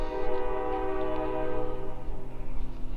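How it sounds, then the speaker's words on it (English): A train horn sounds in a steady, loud, sustained blast with rich harmonic tones, a long continuous blare with no talking over it. "Fitting, we'd hear a train."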